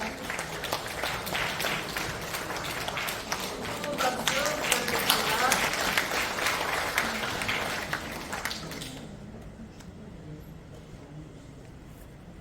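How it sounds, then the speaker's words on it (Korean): Applause for an honored guest at a Christian women's prayer meeting in a National Assembly Library auditorium, a sustained, moderately distant clapping crowd that cuts off abruptly near the end, leaving faint room noise and a short spoken phrase. "뜨거운 감사의 박수 부탁드립니다"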